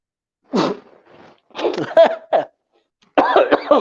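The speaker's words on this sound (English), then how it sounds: "Of course, I had to cough right when I wanted to drink." Several sharp coughs in separate bursts, close and fairly loud, with short quiet gaps between them.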